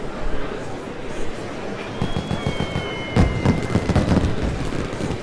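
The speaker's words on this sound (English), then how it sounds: "Wow, they even have fireworks now." Fireworks go off in the video game The Great Ace Attorney, a series of booming bursts and crackling pops with a faint whistling streak, dense and loud over a rumbling background.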